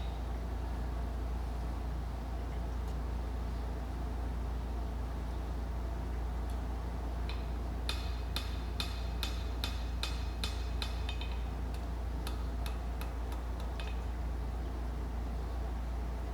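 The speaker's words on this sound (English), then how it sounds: "I'm going to plandish the whole surface, make sure everything's flat and true as I can get it." A hammer planishes the surface of a hand-forged steel chef's knife blade, tapping out quick ringing strikes in short bursts over a constant loud low hum of shop noise.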